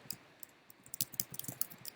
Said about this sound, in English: Sorry for typing noises.